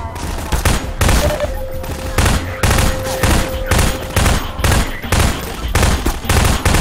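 Rapid gunfire from an inaccurate weapon in Half-Life 2, loud bursts of shots in a choppy, repeated rhythm with brief gaps between volleys.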